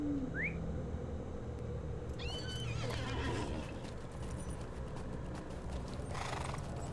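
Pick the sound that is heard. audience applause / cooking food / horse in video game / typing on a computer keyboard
horse in video game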